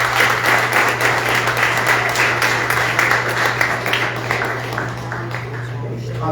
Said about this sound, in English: let's give each other a big round of applause